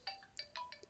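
Mobile phone ringtone going off, a short burst of bright chirping electronic tones in quick succession, faint and distant.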